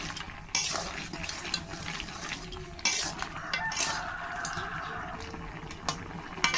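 Water in a cooking pot is stirred, making close sloshing and swirling with occasional light clinks of a utensil against the metal, fairly quiet and without talk.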